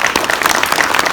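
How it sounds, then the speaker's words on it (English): Audience applause at a campaign announcement event in a room, a steady dense wash of clapping from many hands, fairly loud and sustained throughout with no speech over it. "Please give a round of applause for him."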